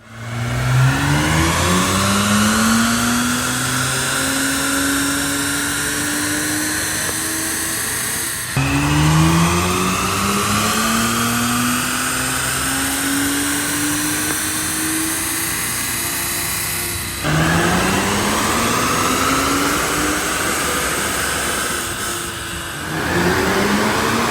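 A 2009 BMW 135i with a twin-turbo engine revs hard three times in a row. Each time the pitch climbs steadily as it accelerates, then drops abruptly on the shift or lift-off. The engine is loud and close, with no talk over it.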